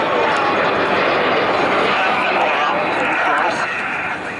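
Jet aircraft crossing at high speed in a 6G hard turn during the Bournemouth Air Festival air show, heard as a loud, continuous broadband roar that holds steady and eases slightly at the end.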